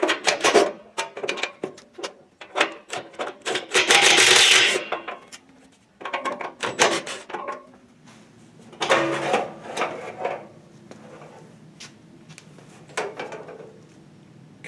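Bolts being removed from the crusty cover of a neglected air compressor, with irregular metallic clinks, rattles and scraping of tools and hardware close up, bursts separated by short pauses, no talking.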